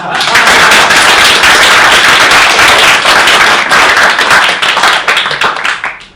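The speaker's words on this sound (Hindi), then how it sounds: "हाँ, तालियां" Audience clapping at a Hindi comedy and satire show, a dense, loud burst of many hands that holds steady for several seconds before thinning out and fading at the end.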